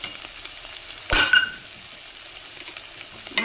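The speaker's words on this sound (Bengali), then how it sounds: "তারপরে কিশমিশ দিয়ে দিলাম। আস্তে আস্তে কমিয়ে নাড়াচাড়া করে" Raisins stirred in a hot pan after cashews give a soft continuous sizzle, with one sharp metallic clink and scrape of a utensil against the pan partway through.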